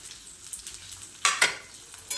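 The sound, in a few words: sautéing onion, peas and ginger-garlic paste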